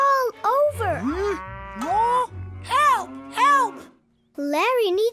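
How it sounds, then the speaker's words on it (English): Cartoon cows moo repeatedly, several loud, drawn-out tonal calls one after another with short gaps, some overlapping a low rumbling tone, and no speech. "A cow goes moo, and Larry's cows refuse to go into the toy"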